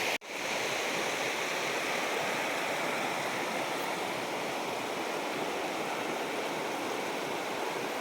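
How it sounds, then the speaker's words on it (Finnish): A river in Finnish Lapland flows with a steady, broadband rushing wash, constant and fairly close, with no voices over it. "Katsellaan vielä vähän tätä jokea tässä."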